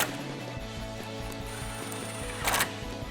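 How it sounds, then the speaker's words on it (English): A ratchet driving bolts to reattach a black mesh upper grille insert on a Ram truck, a fast continuous run of close clicks with a brief louder clatter near the end, no voices. "So we're gonna bolt that back up."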